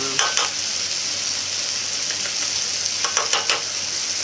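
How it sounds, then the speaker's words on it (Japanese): Rice sizzles and fries in a pan with demi-glace and ketchup, a steady close crackle with a few louder stirring scrapes near the end and no voices. "これで ちょっと濃いめのケチャップで味付けをしてみようかなと思ってますよね。"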